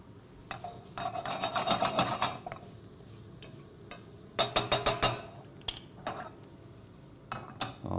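Shrimp hit a pan of sautéing garlic, bringing a soft sizzle and bursts of scraping stirring that come in clusters, moderately close and with no talking over them.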